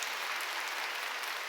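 Applause from a church congregation during a Sunday worship service, a steady dense patter of many hands clapping together, close and continuous without a break.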